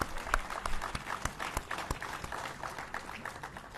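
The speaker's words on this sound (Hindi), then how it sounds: "कृपया जोरदार तालियों के साथ स्वागत करें" An audience claps to welcome a politician onto the stage at a public event. The applause is continuous and moderately faint, with scattered sharper individual claps and no voices.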